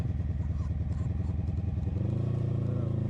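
A 1983 Honda Sabre motorcycle under way on a windy day, its engine droning steadily and rising in pitch toward the end, with rumbling wind noise throughout.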